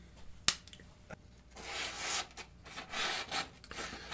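A Buck knife is drawn across a Lansky Blade Medic sharpener in a few faint, close rasping strokes, preceded by a single sharp click.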